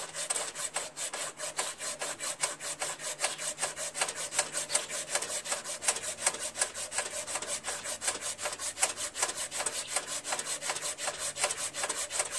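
Hand sanding with fine sandpaper in 200 to 600 grit, steady rapid back-and-forth rasping strokes at an even rhythm, close and continuous with no talking.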